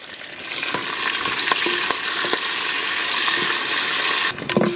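Curry leaves dropped into hot oil for amla rasam fry with a dense close sizzle and crackle, punctuated by stirring clicks and a brief clatter near the end, no talk.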